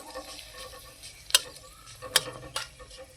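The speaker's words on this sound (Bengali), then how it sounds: "দিয়ে দিচ্ছি 3টে শুকনো লঙ্কা। একটু নাড়াচাড়া করে নেব।" Mustard seeds and three dried red chillies are stirred in hot oil, giving a soft, faint sizzle punctuated by a few sharp ticks and pops of spluttering seeds, close by and without voices.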